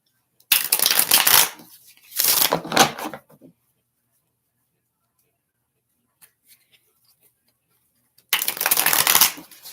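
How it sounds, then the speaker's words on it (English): Tarot cards shuffled by hand at close range, three crisp riffling bursts of about a second each separated by near silence, loud and alone with no talk over them. "I'm shuffling cards"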